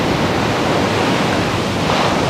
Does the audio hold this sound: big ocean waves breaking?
yes